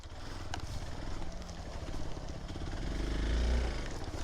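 A Yamaha R15 motorcycle engine labours uphill on a mountain road, a low, close growl that swells and strains while carrying passengers.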